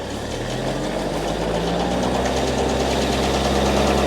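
Chieftain tank TN12 gearbox spinning up in reverse on a test rig, a loud, dense mechanical drone with deep steady rumble and knocking vibration, close and continuous, without talk.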